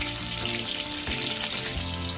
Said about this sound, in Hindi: बहुत अच्छे से फ्राई हो रहा है, एकदम कलर भी बहुत अच्छा दिखने लगा है।